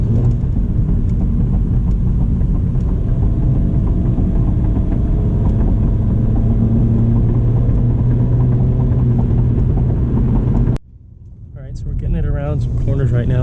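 A 2017 Honda Civic EX engine holds a steady, loud droning rumble at raised revs in low mode for about eleven seconds, then cuts off abruptly to near silence before a quieter hum returns.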